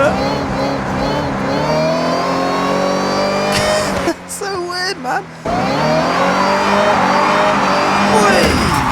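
Supercharged engine, said to resemble a Dodge Hellcat, revving loud and steady in the racing game Forza Horizon 6, its whine sustained with a brief drop midway, while someone talks over it.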